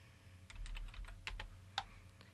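Keystrokes on a computer keyboard, a handful of separate clicks spread unevenly across the stretch with one sharper tap near the end, fairly faint over a low steady hum.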